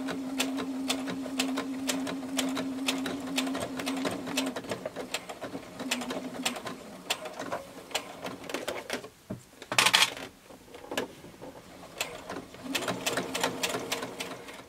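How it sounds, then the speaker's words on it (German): Sewing machine stitching all the way around the edge of a fabric organizer, a steady mechanical whir with rapid needle ticks that pauses and restarts, with a brief louder handling noise midway. "Jetzt noch einmal ganz drumherum nähen."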